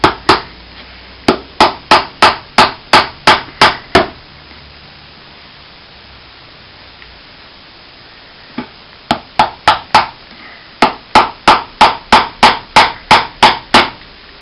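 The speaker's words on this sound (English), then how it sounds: "I will cut that last bit of nail off and then pound them down so it's more or less like a double-sided rivet" Steady hammer blows pound nail ends down on a cowboy boot, a quick run of about nine sharp strikes, a pause, then roughly fifteen more in a brisk even rhythm, close and clear with no talk.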